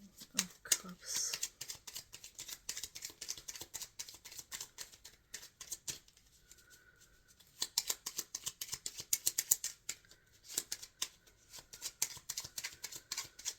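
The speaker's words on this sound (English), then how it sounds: "Shuffling for the King of Cups." Tarot cards being shuffled by hand: soft, quick riffling and crackling bursts that are quiet and close, with a near-silent lull partway through before the shuffling resumes.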